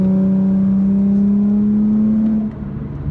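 An Infiniti G37 engine with ISR test pipes drones loudly with a buzzing, raspy exhaust tone that rises slightly in pitch, then drops off as the revs fall.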